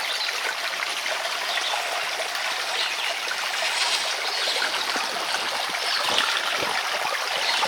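Continuous rushing creek water flows close by, a steady broadband wash with small splashes and gurgles, no voices.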